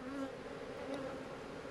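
Honeybees buzz around a hive, a steady insect drone throughout, low and continuous like bees swarming close by, with faint higher whines drifting in and out.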